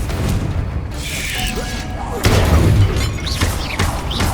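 A Confringo fire spell explodes in the Hogwarts Legacy video game, a loud booming blast with crackling debris amid other whooshing spell effects and mechanical game sounds.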